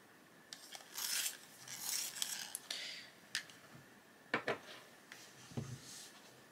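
A pink madder lake colored pencil being sharpened a little, giving a run of short, close scraping and grinding bursts with brief pauses between them and no talking.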